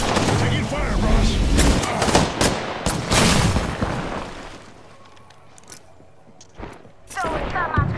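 Bursts of rapid gunfire and blasts from the Apex Legends video game, loud and dense at first, then thinning to scattered shots and a final burst.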